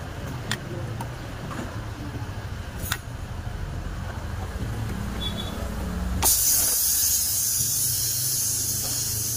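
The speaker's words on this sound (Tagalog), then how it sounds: "Yan guys, babacuum na yan." Vacuuming the refrigerant line of a Carrier window-type aircon during leak repair gives a steady low mechanical hum with a few sharp clicks, then a loud broadband hiss bursts in and continues to the end.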